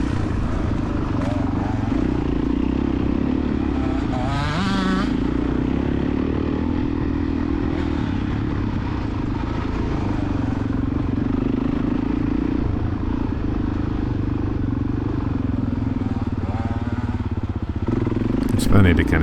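A small-bore dirt bike engine screams steadily at high revs while climbing during a cross-country race, loud and continuous with brief clattering, as someone talks over it.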